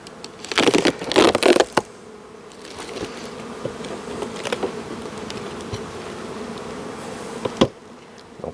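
Bees at a small winter hive buzz in a steady drone, with louder bursts of close buzzing near the start and a sharp knock or handling noise later.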